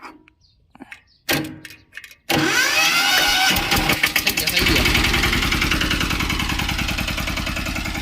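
After a few faint clicks and a brief crank, the 10.5 hp engine of a sanedo farm vehicle roars to life and keeps running loudly with a rapid, rhythmic chug.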